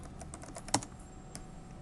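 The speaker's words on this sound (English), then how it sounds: "So we're going to type in diet pills" Quiet, close keystrokes on a computer keyboard as a search is typed, a short run of soft taps with one slightly sharper click near the middle.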